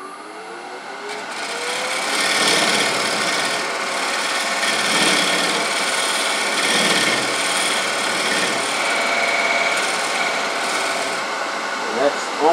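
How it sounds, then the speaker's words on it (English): A hook dovetail scraper cuts into a wooden bowl spinning on a lathe, giving a steady, continuous rasping scrape throughout with slight surges in intensity. "I've got a little depth left on my hook dovetail scraper, so I think that's the approach that I'm going to use to take away some of that."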